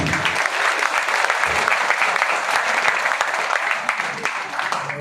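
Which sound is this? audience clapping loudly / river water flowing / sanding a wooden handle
audience clapping loudly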